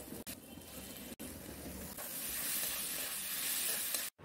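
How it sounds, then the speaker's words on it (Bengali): Chopped tomatoes and spices frying in a pan for a fish head curry, giving a steady close hiss and sizzle that builds slightly, broken by a few brief cuts. "টমেটো দেওয়ার পর এবার আমি মশলাগুলোকে একসাথে খুব ভালো করে কষে নিচ্ছি"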